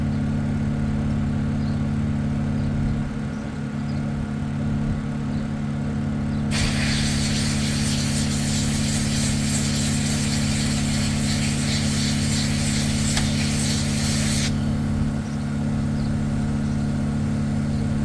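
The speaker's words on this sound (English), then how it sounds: "Spray gun's just a little inexpensive Harbor Freight unit." Inexpensive Harbor Freight spray gun misting a water and solvent cleaner onto a 2020 Ford Explorer vinyl seat, a loud hissing spray burst lasting several seconds over a steady low hum, starting and stopping abruptly.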